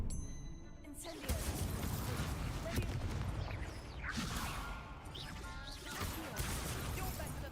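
Spell-casting effects from the game Hogwarts Legacy, a dense roar of crashing, whooshing blasts that surges and swells for several seconds, loud and continuous, with a voice briefly heard over it.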